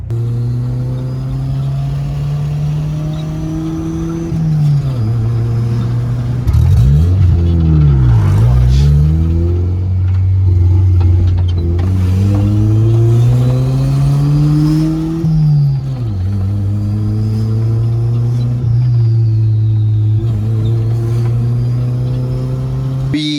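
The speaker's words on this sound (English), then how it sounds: "do that street tuning again to see if I'm building any boost, because it feels a lot more responsive" A Honda Civic with a newly fitted turbo revs and accelerates hard on the street, engine pitch climbing and falling through several gear changes over a sustained, loud, close drive, with no talk.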